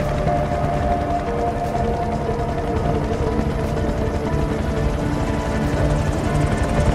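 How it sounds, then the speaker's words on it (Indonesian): A helicopter carrying crew to the Deepwater Horizon oil rig, a loud continuous rotor thrum and engine drone held steady and close throughout, with no talk. "Mereka berangkat menggunakan helikopter bersama-sama dengan kru yang lain juga."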